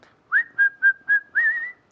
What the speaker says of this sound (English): Sometimes I'm whistling.